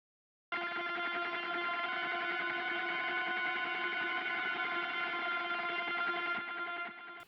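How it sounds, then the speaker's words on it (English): Sustained, washy guitar chords ring out alone, layered with echo and chorus, holding a steady loud swell for several seconds before fading slightly at the end. "And lastly, we have two ambient guitars that sounds like this."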